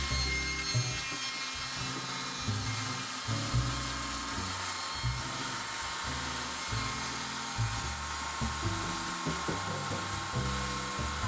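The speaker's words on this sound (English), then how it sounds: "I'm going to use the chainsaw to cut a V in here" A chainsaw cuts into a large wooden log, notching a V to taper the legs of an 11-foot tiki carving. A loud, buzzing engine whine surges and bites in repeated bursts, with no talk.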